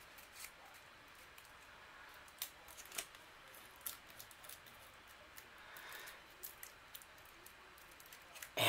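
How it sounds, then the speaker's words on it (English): A thin top layer is peeled off a Xyron sticker maker sticker, giving faint, scattered crackles and soft ticks in a quiet room with no one speaking. "you peel off this thin layer on the top here"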